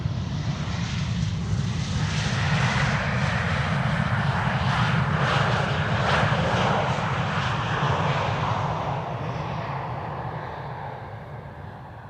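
Two Boeing 747s arriving at Amsterdam Schiphol Airport produce a loud, broad jet-engine roar that swells and holds, then slowly fades as the aircraft pass, with no voices over it.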